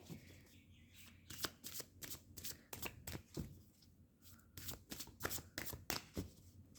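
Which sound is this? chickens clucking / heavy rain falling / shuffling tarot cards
shuffling tarot cards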